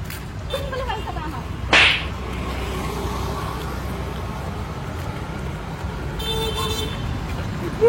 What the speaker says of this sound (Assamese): হৰ্ণ মাৰিলে